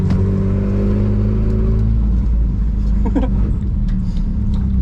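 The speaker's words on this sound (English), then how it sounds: "aggressively shifted into third, kick the clutch, and then we're going" A Volvo 740 drift car's engine pulls hard after a quick shift into third, a loud close rumbling drone that rises and builds, with brief mechanical clunks and road noise around it.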